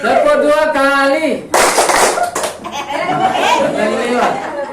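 At a community outreach meeting, a crowd claps in a short burst between stretches of a speaker's loud voice.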